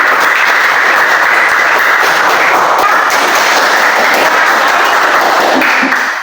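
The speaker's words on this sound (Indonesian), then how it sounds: "Silakan duduk kelompok 3. Berikan aplaus." Classmates give sustained, dense applause after a group presentation in a classroom, loud and steady for several seconds before tapering off.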